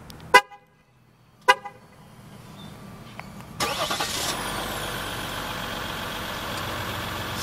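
A 2015 Jeep Grand Cherokee Limited EcoDiesel gives two short remote-start chirps, then its diesel engine cranks and fires up, settling into a steady, close rumble with no talking.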